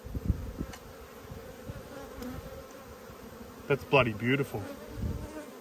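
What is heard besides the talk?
honey bees buzzing around open hive frames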